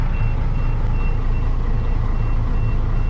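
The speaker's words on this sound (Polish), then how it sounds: "Tam właśnie ciężarówka od chłopaków Mateusz się wysypuje" Grain truck unloading at a grain buying point, its reversing alarm beeping in a steady repeated rhythm over a loud continuous engine rumble and the rush of pouring grain.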